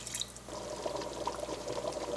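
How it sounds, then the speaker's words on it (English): A cup of water poured into a pot of butter chicken sauce made with milk and cream: a soft, steady trickling pour, faint and close, lasting a couple of seconds with no voices. "Add another cup of water."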